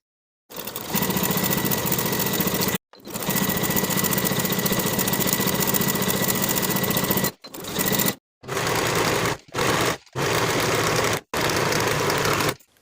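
A sewing machine runs close and loud, stitching the inseam and side seam of a woven romper in long continuous runs. Several shorter bursts follow, separated by brief pauses.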